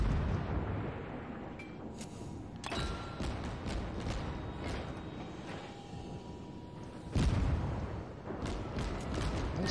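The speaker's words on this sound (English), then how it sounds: "These guns have quite a bit of spread and they're firing AP" A Japanese cruiser, the Katori, in World of Warships firing AP shells from its guns, several deep booming salvos and explosions at irregular intervals over a rumbling battle background.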